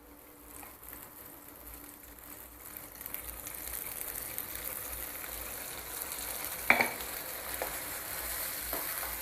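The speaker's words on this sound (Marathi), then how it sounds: "हा मसाला चांगला परतून घ्यायचा." Masala stirred and roasted in a pan gives a faint, steady sizzle that slowly builds, with a few sharp scrapes of the spoon against the pan near the end.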